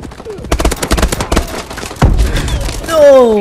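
Rapid bursts of automatic gunfire from a gun in the video game Call of Duty: Advanced Warfare, loud and close, crackling in quick volleys followed by a heavier thump and echoing tail, with faint game voices underneath.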